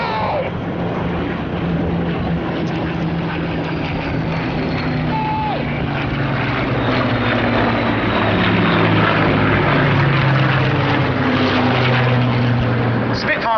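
An RAF Battle of Britain Memorial Flight Spitfire flies past at an airshow, its propeller engine droning steadily and loudly throughout with a slowly shifting pitch as it passes.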